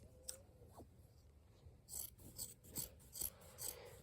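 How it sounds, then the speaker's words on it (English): Scissors trimming quilt batting down to a few inches of overhang around a quilt top, with faint, close snips and soft rasping cuts in a short irregular series, quiet and alone. "trimming this batting to where it's about 3 inches of overhang on each side"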